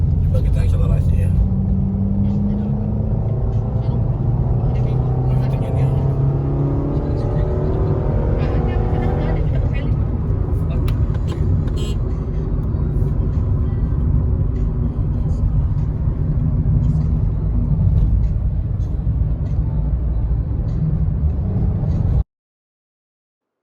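Cabin view of a 2020 Suzuki XL7 MPV accelerating on the road, a loud steady engine and tyre rumble with the pitch climbing over about twenty seconds, and a voice talking over it at first.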